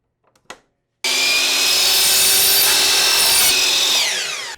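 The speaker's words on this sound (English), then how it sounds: "The crown molding will have 45-degree miters cut on both ends. We do this using a power miter saw." Power miter saw cutting 45-degree miters in crown molding: a brief knock, then a loud, steady high whine as the blade bites the trim, which tapers off as the motor winds down.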